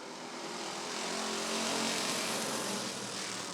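Race cars roar off together at the start of a Roadrunner heat at Rockford Speedway, a loud, sustained broadband engine drone that swells slightly and holds steady throughout, with no talk.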